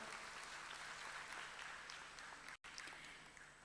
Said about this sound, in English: Yes, you're more than welcome to applaud.